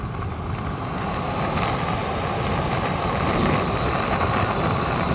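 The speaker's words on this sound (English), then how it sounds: "It's crazy windy." Strong wind at an outdoor camp buffets the microphone with a continuous loud, rumbling roar and gusty rushing noise, no voices present.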